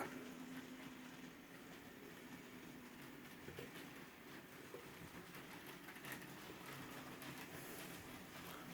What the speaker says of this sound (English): That's the little steam train that I bought.